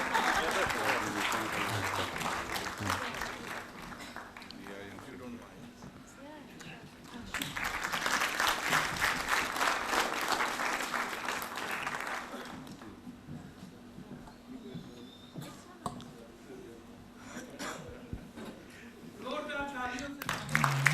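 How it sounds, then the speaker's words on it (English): Conference audience applauding after a session chair receives a memento on stage, a broad sustained wash of clapping that swells twice and fades, with voices talking over and between the bursts. "Big round of applause."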